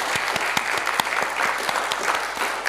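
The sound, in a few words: audience applause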